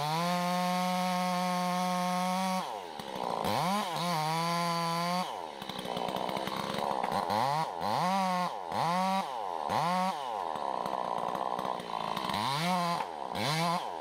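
A chainsaw cuts into a large, heavy tree during felling, its engine revving up and dropping repeatedly in loud, close bursts, bogging down under load and then idling between cuts.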